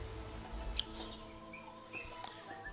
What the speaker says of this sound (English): Listen to the birds.